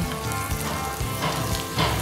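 Karimeen pearl spot fish frying in a banana leaf gives a steady, close sizzle with constant crackling and no voices.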